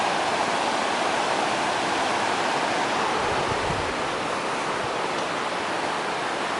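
A river rushing past a hot spring in the forest, a broad, unbroken roar of flowing water, close and loud, steady for the whole stretch with nobody speaking.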